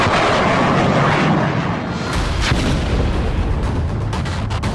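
Heavy explosive blast from a cluster bomb strike in Israel, a loud continuous roar of rumbling booms and crackling bursts that fills the whole stretch without pause.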